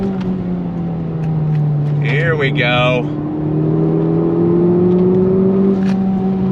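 A Honda Civic Type R FL5 pulls hard in second gear on a track, its engine drone climbing steadily and loud throughout, with a driver talking briefly over it near the start.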